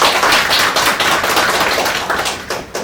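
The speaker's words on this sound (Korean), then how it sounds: "참석해 분들 박수 한번 좀 부탁드릴까요?" Guests at a National Assembly meeting on the Korean film industry give a short, dense burst of hand clapping at close range, with no talking.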